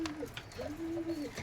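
Young Kamagar pigeons coo nearby, giving soft, low, drawn-out rolling coos in a couple of short phrases against a light background hum, with no talking.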